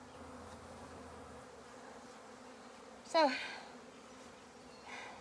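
A honeybee swarm hums steadily and close while the bees climb toward a box sprayed with swarm attractant; a brief spoken word and a short high chirp cut through near the end.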